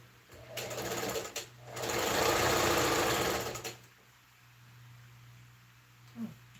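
A poorly running sewing machine stitches shirt fabric in a few short bursts of fast mechanical whirring, the longest about two seconds, followed by a quieter low hum.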